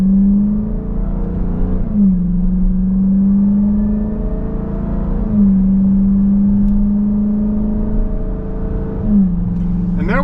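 A 2024 Dodge Durango SRT Hellcat's supercharged engine drops through gears, each downshift marked by a sharp rev blip over a steady loud drone, repeating roughly three times as the vehicle slows.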